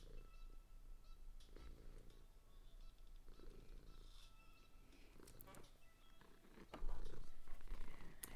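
A cat purrs close up in a quiet room, a low rhythmic rumble pulsing in slow cycles, with a brief louder rustle near the end.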